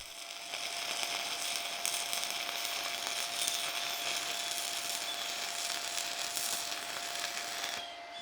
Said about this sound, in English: here is another welder running 1/8 6010 set at 75 amps